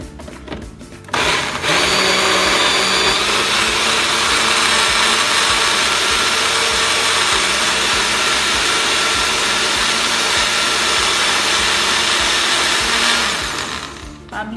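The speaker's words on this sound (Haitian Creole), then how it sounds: "Après ça, pour nous blender." An electric blender whirs loudly and steadily for over twelve seconds while mixing a weight-loss juice with half a glass of water, starting abruptly near the beginning and winding down at the end.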